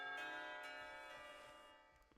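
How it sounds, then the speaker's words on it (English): A school bell in the Katawa Shoujo video game rings out with a sustained, rich harmonic tone that starts loud and slowly decays over a couple of seconds, heard alone. "But the bell rings and cuts me off."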